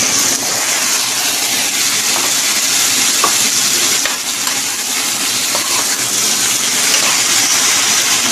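Chili and carrots being stirred as they fry with fish in a pan, giving a loud, steady sizzle throughout with faint utensil clinks and no talk.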